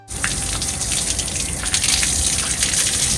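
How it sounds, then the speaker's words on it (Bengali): Water gushes steadily across a balcony floor as it is washed down, a continuous broadband rush at a fairly even loud level with no talking. "ভিডিও শুরুতেই আমি তোমাদের সাথে শেয়ার করছি আমার ব্যালকনি ভালো করে ধোয়া"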